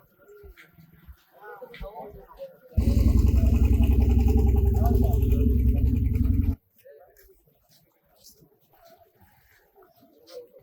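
A boat engine on a river crossing in Bangladesh roars out close and loud as a steady, rattling drone for about four seconds, starting and stopping abruptly, with quieter voices talking before and after.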